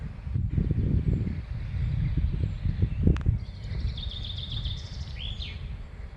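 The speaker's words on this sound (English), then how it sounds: "Listen to the birds." Birds chirp and trill outdoors in the distance over low rustling and wind noise, with a few high whistled calls toward the end, at Castle Leslie in Ireland.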